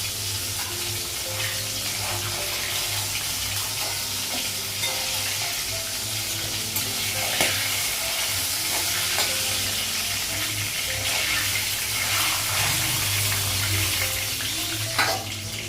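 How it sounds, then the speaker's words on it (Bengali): Fish sizzles steadily in a hot pan on a gas stove in a home kitchen, a loud continuous frying hiss with occasional crackles and utensil knocks over about sixteen seconds. "গ্যাসটা কমানো, মাছটা ভাজা হয়ে গেছে।"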